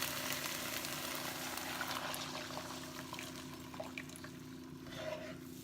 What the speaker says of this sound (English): And then the sauce, just gonna go ahead and pour that in.